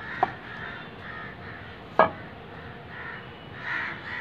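A flock of crows caws repeatedly on a foggy, cold-wave day in Meerut, with harsh calls rising at a steady pace over a quiet background and two sharp knocks.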